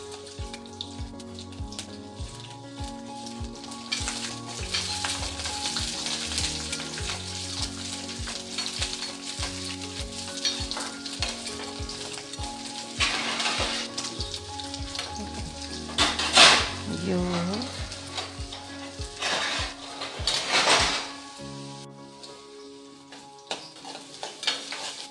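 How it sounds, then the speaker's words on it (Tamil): Garlic cloves, about thirty of them, sizzle and fry steadily in a pan for garlic kuzhambu, with occasional stirring scrapes and louder crackling bursts midway and toward the end, no talking. "பூண்டு நல்லா கொஞ்சம் பொன்னிறமாக வரட்டும்."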